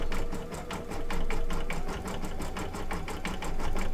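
A computerized embroidery machine stitches an in-the-hoop quilt block, its needle pounding out a fast, steady rhythmic clatter with a mechanical hum, close and continuous throughout.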